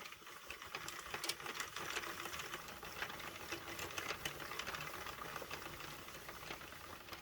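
A knitting machine carriage drawn across the needle bed to knit a single row, a continuous soft rattling swish at fairly low volume, heard alone without talk.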